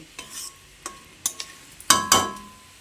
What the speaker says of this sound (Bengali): এবার চিনিটা দিয়ে সজনে ফুলের সঙ্গে ভালোভাবে মিশিয়ে নিচ্ছি